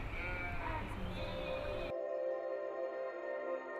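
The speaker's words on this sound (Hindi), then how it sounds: "वो इन पारंपरिक रास्तों पर चलेंगे अपनी 500 भेड़ों और बकरियों के झुंड के" A flock of around 500 sheep and goats herded by Gaddi shepherds in the Kangra valley mountains bleats loudly in overlapping calls, then quickly drops to a faint, steady background.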